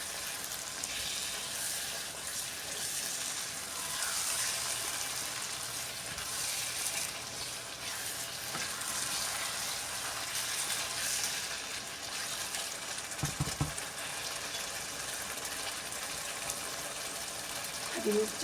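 BBQ chicken tikka masala sizzles in a pan as chaat masala and barbecue seasoning are stirred in. A quiet, steady frying hiss runs throughout, with a few brief scraping stir sounds near the end.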